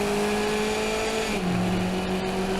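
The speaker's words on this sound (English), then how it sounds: "Riding the rev limiter on 4th gear pretty hard." Race car engine bouncing off the rev limiter in fourth gear during a track race, a loud, steady, buzzing drone heard from onboard that dips briefly in pitch midway before holding again.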